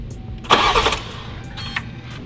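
A BMW M340i built with a big single turbo, upgraded injectors and intercooler cranks briefly and fires, catching with a loud burst and settling into a rough, lumpy idle with a second blip, close by.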